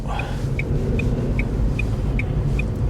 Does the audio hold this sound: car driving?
yes